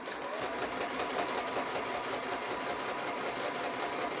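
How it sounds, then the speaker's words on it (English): A sewing machine runs continuously as it stitches overlapped fabric strips, a steady, fairly loud mechanical whir with fine rapid ticking from the needle, heard alone without talk. "Let's take it to the sewing machine."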